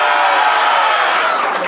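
A live audience at an improv show cheers and claps loudly to vote, giving a continuous roar of whoops and applause that fades slightly at the end.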